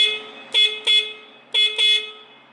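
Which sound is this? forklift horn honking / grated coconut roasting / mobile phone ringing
forklift horn honking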